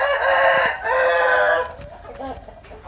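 A rooster crows loudly and close by in one long drawn-out call, then a hen clucks softly as it trails off.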